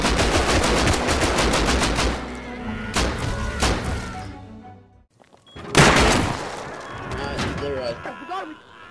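AK rifle firing in the survival video game Rust, loud rapid automatic bursts close by, a brief lull, then more shots while players talk over the action.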